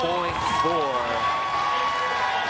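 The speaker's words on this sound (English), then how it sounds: "Well, the crowd loves it." Crowd cheering at a Street League Skateboarding contest at the X Games in Los Angeles, a steady roar of voices and applause filling the space while an announcer talks over it.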